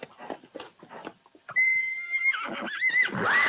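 A horse neighs in a 1970 film, a loud high whinny that rises and wavers after a few muffled thuds and stirrings, close and sustained to the end.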